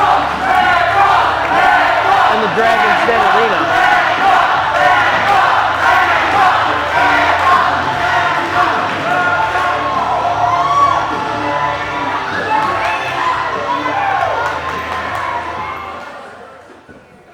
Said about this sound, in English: I don't know if you can hear this at home, but the crowd is deafening